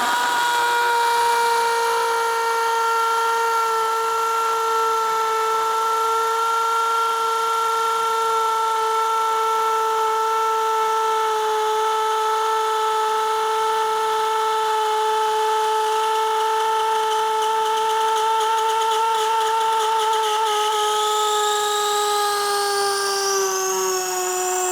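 A DeWalt impact drill runs continuously at a steady loud whine for about twenty-five seconds, its pitch holding level and then rising slightly near the end, with no talking.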